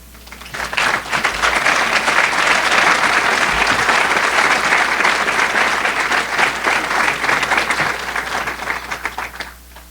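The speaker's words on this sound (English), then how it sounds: "I'd like the audience to give another big round of applause" A large audience at a speakers forum claps loudly and steadily for about ten seconds, a dense, even roar of hands that swells early and tapers slightly at the end.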